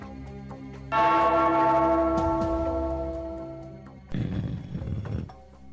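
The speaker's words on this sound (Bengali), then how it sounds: "ওই ঘন্টাটা বাজাও, বাজাও।" A large bell is struck once and rings out with a long, slowly fading resonant tone, followed by a rumbling roar-like noise.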